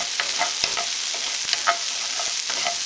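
Roasted garlic sizzles steadily in a hot pan while a utensil mixes it in a few quick scraping strokes, close up, with no one talking.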